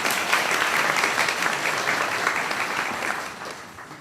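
A room full of people at a judicial investiture claps steadily, a dense burst of applause that gradually fades toward the end.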